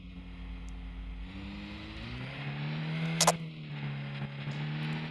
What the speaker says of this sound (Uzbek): Juda tez yuradi bu mashina.